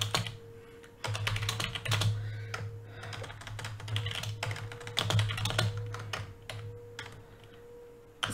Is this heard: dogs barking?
no